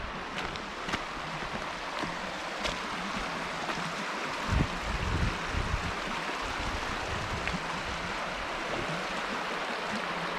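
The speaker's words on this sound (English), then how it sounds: "I almost don't want to talk because I love the sound of the water" A stream flows through the Mill Creek Park gorge in Youngstown, Ohio, making a steady broadband rush of water with a few soft knocks and brief thumps mixed in.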